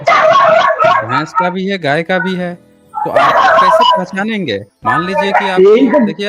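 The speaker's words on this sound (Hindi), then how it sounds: "आपके पीछे कुत्ता भौंक रहा है" A dog barks and yips in the background behind a voice, its calls mixed in under continuous talk and not heard alone.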